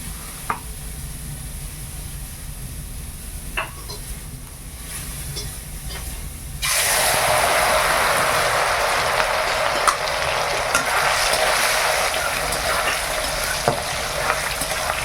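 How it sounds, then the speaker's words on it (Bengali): Soybean chunks frying in oil, a soft sizzle with scattered clicks that jumps partway through into a loud, dense crackling hiss, close and steady with no talking. "সোয়াবিনটা একটু তেলে ভেজে নেই"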